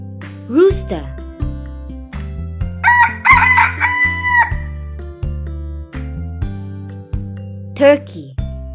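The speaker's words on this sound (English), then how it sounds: "rooster." A rooster crows loudly in a single drawn-out call at mid-clip, set over looping background music, with shorter bird calls and a brief spoken word near the start and end.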